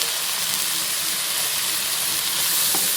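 Steady, dense sizzling of finely chopped tomatoes sautéing in a hot pan for egg kottu parotta, a continuous crackling hiss with no voices.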